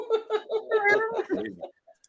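A voice playfully imitates a cat's meow in a drawn-out, singsong tone, ending with a short trailing sound and brief quiet.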